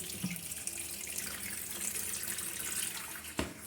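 Tap water running steadily into a container, a continuous close splashing rush with a couple of brief clunks, and no talking.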